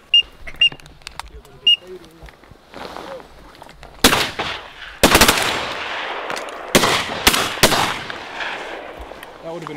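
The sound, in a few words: shotgun fire while duck hunting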